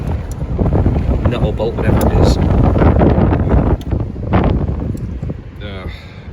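Strong wind buffets the microphone in a loud, rumbling roar beside a VW T4 camper while a person talks over it, easing off near the end.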